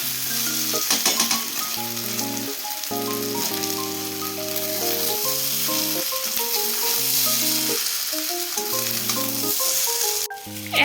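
A biryani mixture sizzles steadily as it is stirred and fried in a pan, the hiss continuous under background music before a brief louder burst near the end.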